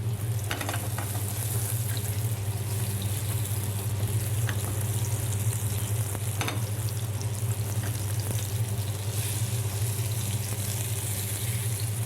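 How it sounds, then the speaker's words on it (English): Salmon frying skin-side down in olive oil in a non-stick pan, giving a loud, continuous close-up sizzle that holds steady throughout with a few brief clatters of the pan being shaken. "Just gently shake the pan to begin with to make sure that the skin is not sticking"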